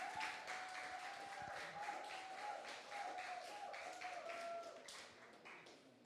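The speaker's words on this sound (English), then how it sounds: "A round of applause for her" A university audience claps for the Dean of the School of Communication Studies, Mrs. Baba Kofi, at a campus event: fairly faint, steady applause lasting several seconds over a sustained mid-pitched tone.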